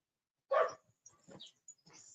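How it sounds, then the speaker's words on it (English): A dog gives one close, sharp bark followed by a few softer, shorter yips and huffs, isolated against silence. "Listening to dogs barking."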